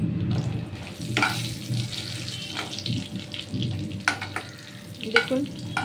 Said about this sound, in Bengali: জিরে আর শুকনো লঙ্কা সাম্বার দিয়ে দিলাম, অল্প সামান্য সর্ষের তেল দিয়ে